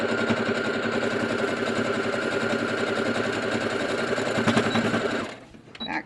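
A sewing machine stitches a medical mask in a fast, steady whir with a buzzing motor, running continuously up close before stopping abruptly near the end.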